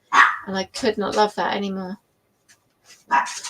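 A dog barks a few times at a distance, muffled as if behind a door, while someone talks over it in the foreground.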